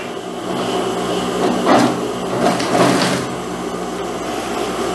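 A sewing machine stitches a trim strip along a jacket opening, a steady mid-level whirring run that swells briefly in the middle and carries on evenly.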